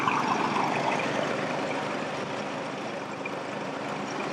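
Nissan Xterra engine running at idle with a blown head gasket, a steady broadband rumble that holds evenly and fairly loud throughout, with no voices.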